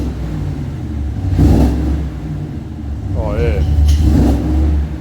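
A Walkinshaw Chevrolet Silverado 1500 and a Dodge Ram with full exhaust systems rev up, with a loud, rough engine rumble that rises in two bursts over a steady idle while people cheer and talk nearby.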